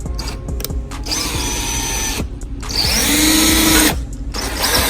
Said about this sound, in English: And I'm just gonna drill.